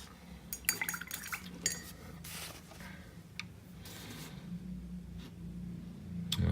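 A paintbrush tip is rinsed of paint in a water pot, with soft swishing and light clinks against the container, faint and intermittent over a quiet room.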